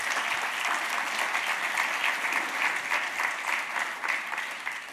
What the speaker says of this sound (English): I just want to give you a big round of applause.